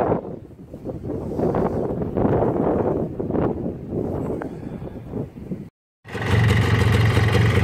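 A Muravey motor scooter engine runs after a cold start following winter, a continuous rough rumble with wind noise, cutting out briefly before resuming as a steadier, louder drone close to the microphone.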